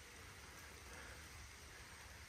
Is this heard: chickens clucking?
no